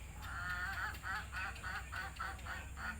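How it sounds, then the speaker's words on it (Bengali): Ducks and chickens in a village yard give a steady run of quacking calls, about ten evenly spaced bursts over a few seconds, fairly close and with no talking. "দেখছেন মুরগি কি সুন্দর কক কক করে আর ওই যে আছে হাঁসের রাজ্য"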